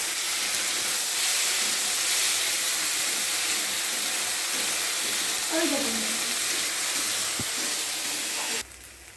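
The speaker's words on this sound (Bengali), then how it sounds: "এই যে দেখুন পেঁয়াজটা হয়ে গেছে ভাজা।" Onion paste frying in a pan: a steady, close, loud sizzle and hiss that runs unbroken for several seconds before cutting off, with a faint voice heard briefly.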